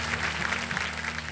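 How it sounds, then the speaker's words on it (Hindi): Studio audience applause on the Hindi quiz game show Kaun Banega Crorepati, a dense, steady wash of clapping over a low sustained musical tone throughout. "और तालियों के साथ इनका स्वागत करते हैं"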